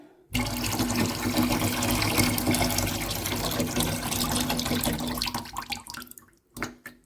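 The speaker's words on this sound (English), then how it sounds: "Let's drain off this lemon water." Lemon water pouring off cut apples into a kitchen sink, a steady close splashing stream that runs several seconds, then thins to trickles and a final short gush.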